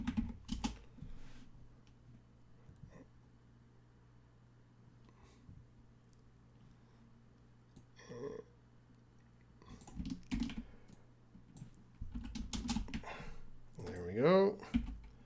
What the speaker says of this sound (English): And then I'll type in surf.